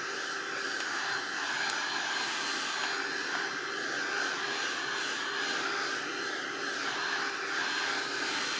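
Hair dryer drying paint on an art journal page, a steady loud whooshing blow of air running continuously throughout with no talk.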